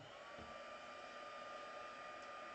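A heat embossing tool blows steadily with a constant whirring hum and airy rush, close and continuous throughout.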